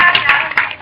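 Hands clapping at a neighbourhood fire drill, a short burst of close, sharp claps in an uneven rhythm lasting under a second.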